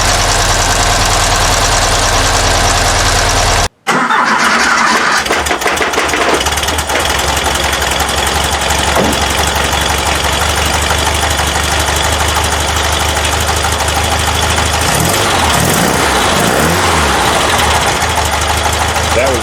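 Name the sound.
Porsche 912 engine running with Dellorto DRLA carburetors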